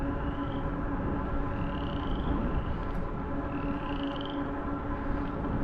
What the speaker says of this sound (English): Boy, the frogs are out,